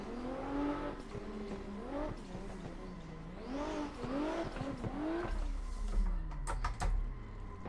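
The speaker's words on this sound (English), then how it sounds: "We're just gonna drift that back around though." A car drifts around a steep banked wall on the OSW track in Assetto Corsa, its engine revving up and down in repeated surges with tire squeal, loud and close throughout and without talk.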